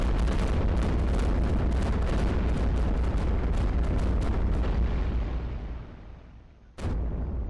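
Cannon fire in the iBomber Defense video game with a level 3 cannon, a dense, loud barrage of repeated booms that fades and then breaks off in one sharp final blast.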